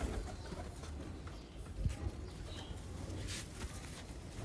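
Pigeons cooing softly in a loft, low murmuring calls under a dense, noisy background with occasional rustles and flutters.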